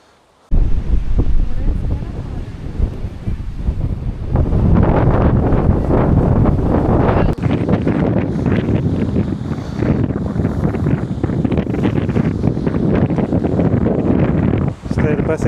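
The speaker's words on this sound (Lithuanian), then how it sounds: "vėjukas. Pučia, ne?" Strong wind buffets the microphone at the seashore with large waves, a loud, roaring rush that starts abruptly and keeps gusting unevenly throughout.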